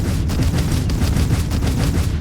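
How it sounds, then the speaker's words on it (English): Rapid, heavy bursts from Vanguard auto cannons in a starship video game, a loud booming rhythm of closely spaced shots that rolls on without pause for a couple of seconds. "what makes the Vanguard cannons amazing, other than the fact that you could have 6 of them, is that they're auto cannons"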